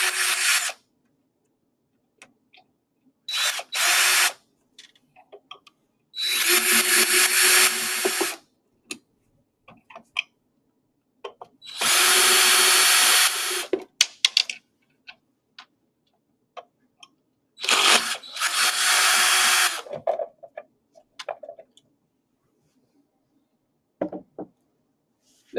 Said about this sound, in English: For disassembly, a drill can be used.